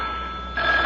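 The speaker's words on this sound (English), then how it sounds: "Oh, the phone, wait." A telephone bell starts ringing partway through, a steady bright electronic trill over a low background hum, with no talking.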